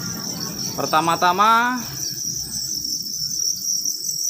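Crickets in a breeding box chirp with a continuous high, steady trill throughout, while someone speaks briefly near the start.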